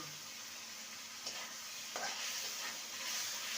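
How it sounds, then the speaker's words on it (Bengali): Soaked potato pieces fry in a spice masala with a soft, steady sizzle, and a few quick scraping stirs break through the quiet hiss in the pan. "মশলার সাথে আলুকে ভালো মতো কষিয়ে নেবো"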